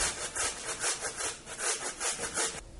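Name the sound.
grating potatoes with a grater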